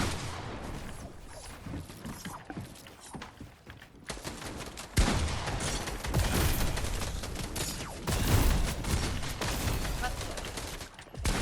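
Shotgun blasts in the Fortnite video game ring out among dense in-game gunfire, with several loud, sharp bursts rising over a continuous clatter of shooting and mechanical noise.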